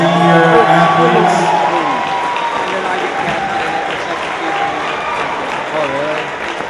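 A crowd applauds senior athletes at a high school senior night sports event. The steady, dense clapping with some cheering fills the whole stretch, loudest at the start and easing slightly toward the end.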